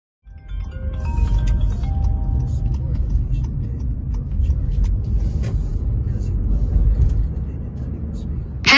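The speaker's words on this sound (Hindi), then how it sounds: "फिर अभी घर के लिए मैं ड्राइव स्टार्ट करूँगी।" A car is driven on a road in the USA, heard as a steady low rumble of engine and tyres that continues throughout, with a faint voice now and then.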